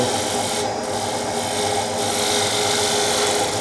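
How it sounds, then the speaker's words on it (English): Sandpaper rubbing out small ridges on a wood transition cut, a steady continuous rasping scrape held close and fairly loud throughout with no pauses or talk. "See if I can get a few more of those ridges out of there."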